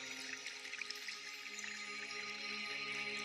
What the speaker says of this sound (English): a gentle waterfall ripples into the pond